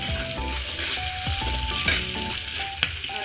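Fried green chillies with a spoonful of salt sizzle steadily in a pan while a spoon stirs and scrapes through them, with a sharper clink of metal near the end.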